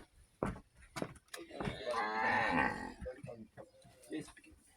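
A cow on a farm among livestock lets out a loud, drawn-out moo in the middle, with people talking and moving around it before and after.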